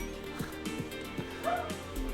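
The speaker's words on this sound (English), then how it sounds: "Doggies." Several quick dog barks and yips sound at moderate distance in a brief, irregular volley, with a higher whine midway and faint background hum, no talking.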